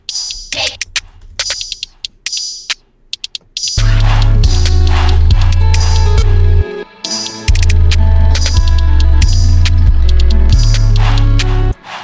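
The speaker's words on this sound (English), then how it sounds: "these are actually what the drums sound like" A producer's drum track from a beat project plays punchy kicks and crisp hi-hats in a steady pattern, sparse at first and then fuller with deep low hits, loud and up close.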